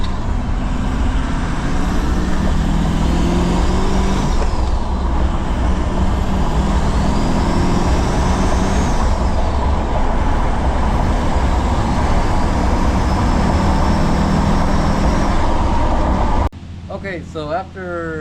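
Ford 6.0 Powerstroke diesel truck fitted with a triple turbo setup, driving with a loud, steady engine drone and rising and falling turbo whistle throughout, ending abruptly in a brief, different, quieter sound.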